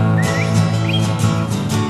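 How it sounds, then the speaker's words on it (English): Short bird chirps and tweets rise briefly over a steady, droning tonal background, two quick calls in under two seconds. "Some good bird noises there"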